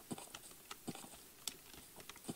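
Typing on a computer keyboard, a quiet run of uneven clicking keystrokes with a few heavier taps, heard alone at close range with no talk.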